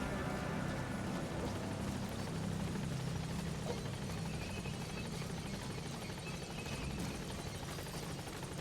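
A helicopter from Metal Gear Solid 5: The Phantom Pain on Xbox gives a steady, loud whirring rotor drone that holds without a break from start to finish.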